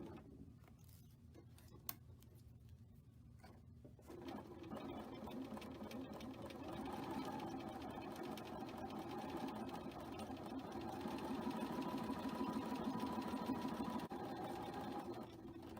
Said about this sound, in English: I'm stitching 1/4 of an inch away from that line, with my 1/4 inch foot kind of sitting right on the top of that line